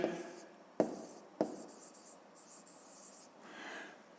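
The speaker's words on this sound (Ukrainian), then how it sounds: "Пишемо тоді 1. Ось тут відповідно." A pen writes an answer by hand on paper, giving faint, close scratching strokes with a few sharper taps in a quiet room.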